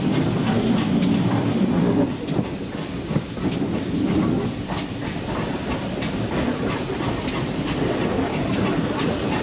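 A Western class diesel locomotive passes at Carmarthen on the Gwili Railway during a gala, its rumbling rolling noise and rhythmic wheel clatter over rail joints loud and close, then easing slightly as the train moves on.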